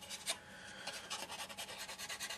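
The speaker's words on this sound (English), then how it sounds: "I'm not pressing too hard, I'm letting the sanding stick do the work." Soft, rapid back-and-forth rasping of a sanding stick on a small plastic part of a 1/48 Airfix Gloster Javelin model, a quiet rhythmic scratching close up with no talking.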